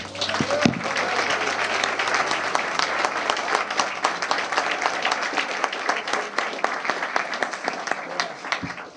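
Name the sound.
church congregation applauding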